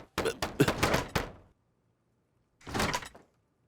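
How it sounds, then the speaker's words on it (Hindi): A door being opened makes a close, rattling sliding noise lasting about a second. After a short silence, a second, briefer sliding burst follows. "दरवाजा खोलो, जल्दी खोलो, दरवाजा खोलो"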